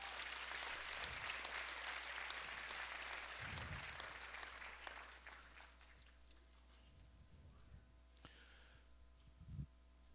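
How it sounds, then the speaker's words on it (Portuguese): Congregation applause at a church service, a steady crowd of clapping for about five seconds, then fading into quieter scattered sounds and room noise with a low hum underneath. "Agora depois dá outra salva de palmas para o Senhor."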